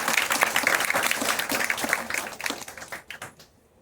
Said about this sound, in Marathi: अगोदर टाळ्या वाजवा तसं सांगितलं.